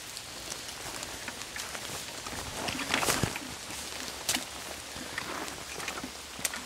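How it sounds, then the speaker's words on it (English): Steady rain patters on surfaces outdoors by a creek with a soft continuous hiss and occasional louder drops, no voices. "It's raining."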